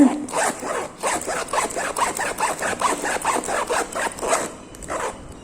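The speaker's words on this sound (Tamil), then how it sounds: "இப்போ வந்து ஜிப்பு ஃப்ரீயாக இழுக்க வருது" A zipper rasps back and forth repeatedly in quick, even strokes, close and fairly loud, with no talking.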